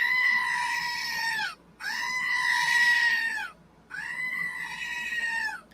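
A goat bleating sound effect: three long, loud, wavering bleats in close succession, each separated by a brief silence, with nothing else audible.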